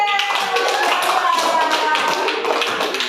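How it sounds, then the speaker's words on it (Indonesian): A classroom group claps hands for Bapak B during a kecak dance lesson at an Indonesian primary school, a steady burst of fairly loud, close clapping filling the whole stretch. "Tepuk tangan untuk Bapak B."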